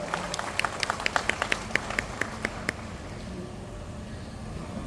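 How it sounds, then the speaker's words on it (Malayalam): An audience at a public gathering claps in a quick, uneven patter of separate hand claps for about three seconds, then the claps die away, leaving a low room hum. "നല്ലൊരു കയ്യടിയോടുകൂടി നമുക്കത് സ്വീകരിക്കാം."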